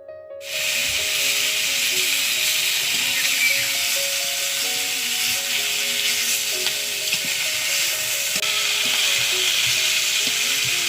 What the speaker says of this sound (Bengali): মাছগুলোকে খুব সাবধানে উল্টিয়ে পাল্টিয়ে ভেজে নেব,